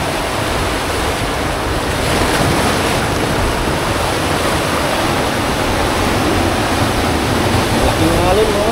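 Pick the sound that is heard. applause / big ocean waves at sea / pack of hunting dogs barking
big ocean waves at sea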